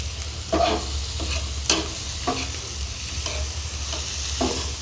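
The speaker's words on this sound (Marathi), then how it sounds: "कांदा आणि टोमॅटो फ्राय करायला टाकलेला आहे" Onion and tomato frying in a pan alongside prawns, a steady close sizzle broken by regular scraping strokes of a spatula stirring about once every half second; no talking.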